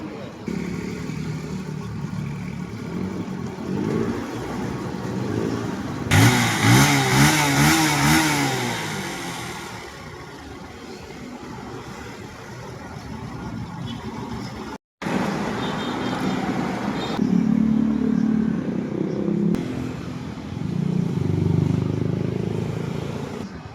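A Honda NS125 fuel-injected motorcycle with a stalling fault runs steadily with a mid-pitched engine drone, rising into a louder rev burst partway through, while people talk nearby over the idle.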